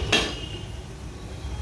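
A metal lid set down over a pan of cooking bhagar (vari) sheera, giving one short clink near the start, followed by a low steady simmering hiss.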